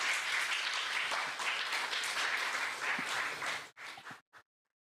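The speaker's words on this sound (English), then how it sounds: "Let's give them a big round of applause." Sustained audience applause at a Hindu temple Sunday gathering, a steady dense wash of clapping that fades and breaks off into a few scattered claps before silence.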